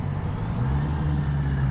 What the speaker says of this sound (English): Let this truck pass before I